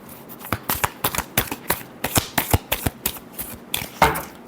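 Tarot cards are shuffled by hand up close, making a rapid series of crisp riffling snaps and flicks in an uneven rhythm, ending with a slightly louder burst.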